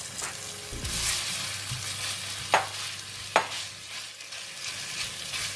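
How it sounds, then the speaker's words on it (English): Ground beef frying in hot cooking oil with garlic, a steady sizzle with a few sharp scrapes of a utensil against the pan, close and moderately loud with no talking. "And now I'm going to put in the meat, and we're going to stir fry the meat first."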